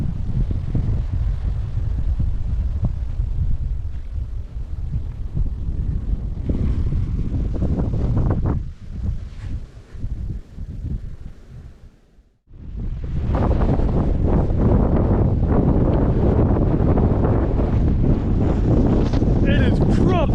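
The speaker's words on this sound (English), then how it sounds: "It is proper windy here. So windy." Strong wind blows on Quail Island near Christchurch, buffeting the microphone and rushing through the trees. Loud, continuous gusting dips briefly to a lull, then roars back; people talk faintly underneath.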